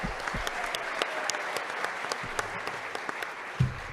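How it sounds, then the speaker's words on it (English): An audience at a university press event applauds Mayor John Gates, a sustained round of many hands with distinct individual claps standing out, fairly close, plus a brief knock near the end. "Give him a big round of applause."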